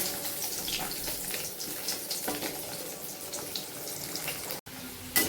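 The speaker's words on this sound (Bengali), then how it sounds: "তো এখন এই যে আলুগুলোকে ভেজে নিচ্ছি ভালো করে লাল করে ভেজে নেব" Potatoes frying in a pan, giving a constant close hiss and sizzle that runs throughout with no pauses.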